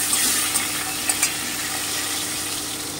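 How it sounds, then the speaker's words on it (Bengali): Pointed gourd (potol) frying uncovered in a pan of oil, a loud, close, continuous sizzle broken by a few sharp clicks of stirring, with no speech. "এবারে আমি পটলগুলোকে ভেজে নিচ্ছি।"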